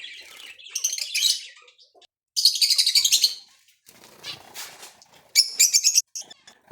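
A pair of amadina finches, one male and one female, chirp close by in quick rapid bursts of bright twittering separated by short silences, with a softer rustle in the middle.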